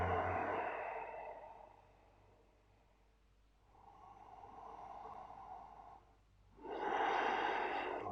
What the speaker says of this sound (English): Another couple of breaths here.